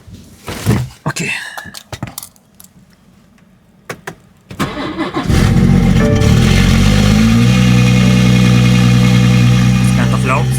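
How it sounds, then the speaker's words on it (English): A BMW with a B58 engine, M Performance exhaust and downpipe starts up: a few clicks and thunks, then a cranking catch and a loud close roar that settles into a steady idle. "So let me start up the car actually."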